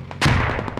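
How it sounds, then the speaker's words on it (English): A video game explosion in a military shooter, a single loud close blast with a sharp onset that rumbles briefly before fading under faint rapid snaps. "something blew up right behind me here"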